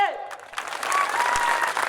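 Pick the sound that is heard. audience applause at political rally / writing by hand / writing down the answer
audience applause at political rally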